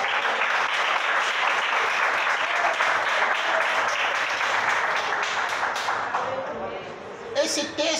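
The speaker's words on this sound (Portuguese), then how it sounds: "A igreja senta-se e bate as palmas para Jesus." A church congregation claps together for Jesus in a sustained, dense wash of applause that carries on steadily and then thins out near the end.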